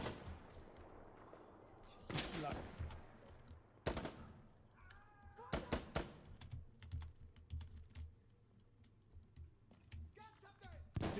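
Gunfire in Insurgency Sandstorm, with sharp isolated shots and short bursts spread over quiet stretches, mixed with close keyboard clatter and a voice speaking now and then.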